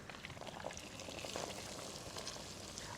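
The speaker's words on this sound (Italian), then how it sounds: "E adesso vado a friggere." Breaded veal cutlet, cotoletta alla milanese, frying in a pan of hot oil, giving a steady close crackling sizzle that holds evenly throughout with no talk.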